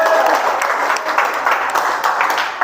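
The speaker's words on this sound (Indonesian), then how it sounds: "Tepuk tangan buat kelompok." A classroom of students gives a group a round of steady, close clapping that lasts a few seconds, with a few voices mixed in.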